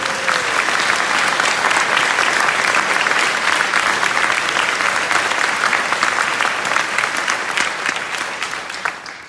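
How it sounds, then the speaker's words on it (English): Concert audience gives an orchestra a loud, sustained round of applause after a Florence Price symphony, dense clapping filling the hall before tapering off near the end. "Let's give them another round of applause"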